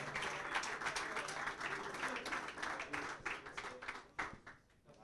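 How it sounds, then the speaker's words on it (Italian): An audience applauding a futsal player at an awards event, steady dense clapping that thins and fades near the end, moderately close with faint voices underneath. "Un applauso per Angelo Mangili"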